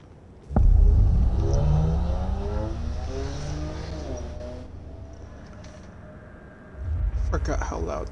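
Loud car traffic rumbles past in the Control video game, a heavy engine roar swelling in, easing over several seconds, then surging again near the end.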